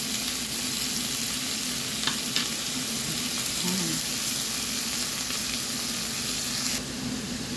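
Shrimp sizzling in a hot pan for a Filipino ginisang hipon dish, a steady close frying hiss with light stirring clicks, no talk.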